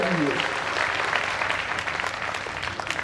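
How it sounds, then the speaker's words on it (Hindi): Loud, dense applause from an audience at a live Hindi kavi sammelan poetry gathering in Khamnor, sustained clapping that gradually thins out, with a few voices briefly audible early on. "एक बार जितने कवियों ने पढ़ा जोरदार ताली बजा दीजिए"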